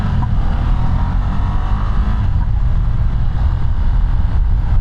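Ducati Desert X motorcycle with a V2 engine under hard throttle; a loud, continuous low engine roar held steady for several seconds, with no speech.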